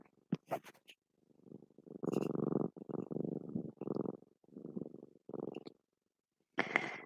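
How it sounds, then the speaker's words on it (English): A cat purrs close by in a series of low rumbling bursts with short pauses between breaths, quiet and intimate. "Can you guys hear this cat?"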